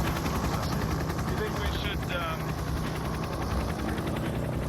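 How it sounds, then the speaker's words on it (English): A helicopter's rotor throbs in a fast, rapid pulsing chatter, loud and continuous, with people talking faintly beneath the noise. "I'm having a bit of a problem with the helicopter."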